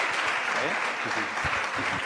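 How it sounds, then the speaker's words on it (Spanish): Applause from an audience at a talk on the purpose of women, a dense, steady patter of clapping filling the short stretch, with voices mixed in underneath. "La podemos recibir también con un aplauso"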